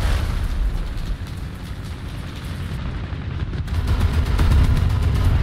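Tank cannon fire in the War Thunder combat game, deep booming shots with rumbling explosions and dense battle noise, loud and continuous, swelling toward the end.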